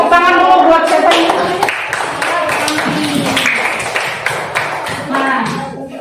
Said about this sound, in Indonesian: tepuk tangan dulu buat siapa ini